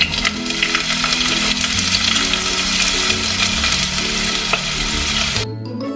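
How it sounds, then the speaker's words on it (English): Garlic and onion sauté in hot oil in a pot, giving a loud steady sizzle with a utensil scraping and stirring throughout, then the frying quickly drops away at the end. "Sauté the other portion of garlic and onion."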